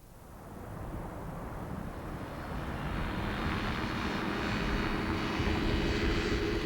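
A light aircraft climbs out during a coast-to-coast air rally, its engine a steady broadband drone that grows gradually louder and fuller throughout, heard alone with no voices.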